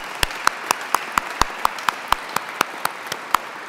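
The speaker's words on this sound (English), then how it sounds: "Please give yourselves a round of applause." A small group of Syracuse University students at an awards event clap in slow unison, a rhythmic series of about fifteen sharp, evenly spaced claps ringing out over faint room noise.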